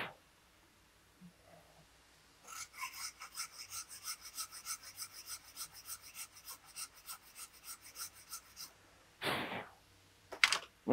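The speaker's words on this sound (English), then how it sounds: "So we're only going to run this saw down about 3/16 of an inch." A hand saw cuts into wood for a two-piece bow, a steady run of close rasping back-and-forth strokes lasting several seconds, followed by a brief louder scrape and a couple of sharp knocks.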